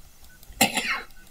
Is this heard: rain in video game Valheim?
no